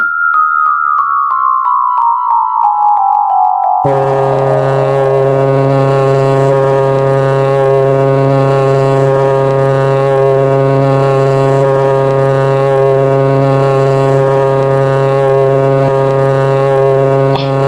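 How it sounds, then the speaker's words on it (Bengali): A shinga horn is blown in a cartoon: a short falling tone, then a loud, steady, droning blast held for over ten seconds with no talk over it. "ও অনেকটা ঠিক শিঙে ফোঁকার শব্দ মহারাজ"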